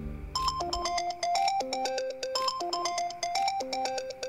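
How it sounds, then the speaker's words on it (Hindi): A phone ringtone plays loudly and alone, a bright repeating electronic melody ringing in a steady looping rhythm for several seconds. "थोड़ी देर बाद उसका फोन फिर से बजा"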